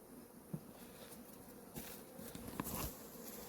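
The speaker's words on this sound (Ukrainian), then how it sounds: "Ось така кількість бджіл на бічній стінці." Bees crowd the side wall of a hive during an inspection of Buckfast-queen colonies, giving a steady low buzzing hum with a few faint knocks and rustles.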